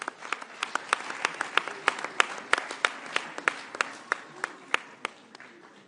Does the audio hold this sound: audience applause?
yes